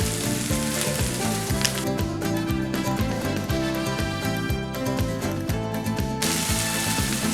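Paella mix sizzles loudly in a pan with a dense, continuous frying crackle. Rhythmic scraping pulses from stirring run through most of it.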